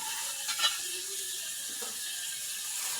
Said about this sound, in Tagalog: Ayan guys, nagprito na tayo.